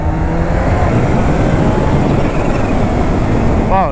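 A Kawasaki H2 motorcycle rides along an open road, heard as a loud, steady rush of engine drone and wind buffeting from the rider's position, with a brief voice at the very end.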